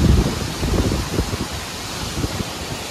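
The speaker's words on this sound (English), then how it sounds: "You can see the rain is really coming down, especially bouncing off the fire Christmas lights." Heavy December rain and gusty wind from a severe derecho thunderstorm in Iowa, heard as a loud continuous wash of noise with low rumbling buffets, strongest at the start.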